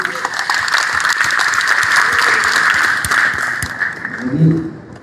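A hall audience applauds the BPD HIPMI Papua Barat chairman at an inauguration ceremony, sustained loud clapping from many hands, dense and close, with a voice rising briefly near the end.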